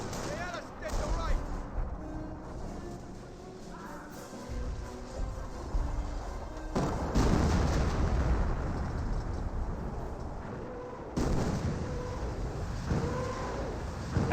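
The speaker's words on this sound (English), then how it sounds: "now the Nebelwerfer barrage raining on in." A Nebelwerfer rocket artillery barrage in the World War II strategy game Company of Heroes: rumbling explosions and heavy bursts roll on continuously, with a sharp loud impact near the end.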